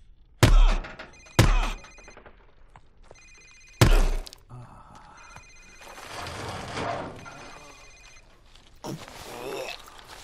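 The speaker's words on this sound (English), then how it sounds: "Sir, it's his cell phone." A cell phone rings in Call of Duty Modern Warfare Remastered, sounding in several short bursts between heavy thuds and impacts. Tense game ambience fills the gaps, and indistinct voices are heard briefly near the end.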